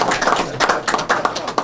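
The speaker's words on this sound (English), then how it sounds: "Don, they didn't clap for us, but they clapped for the DA." A small audience at a state attorney general's press conference clapping briefly, a few scattered sharp claps in an uneven rhythm.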